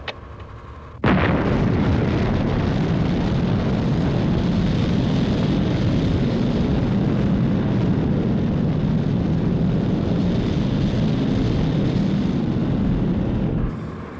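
Thunderbirds rocket engine ignition: an abrupt, very loud roaring blast bursts in after a brief quiet moment and holds as a dense, rumbling thunder of thrust for over twelve seconds before tapering off.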